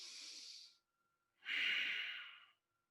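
Deep breathing during a yoga plank: a long, airy breath of about three-quarters of a second, a short pause, then a stronger, fuller breath lasting roughly a second, close and clear with no talk.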